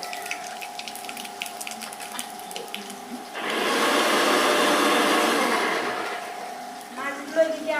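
Whole chillies and nigella seeds hit hot oil, setting off a loud, close sizzle that swells for about three seconds and then eases back. Quieter kitchen clatter comes before and after it.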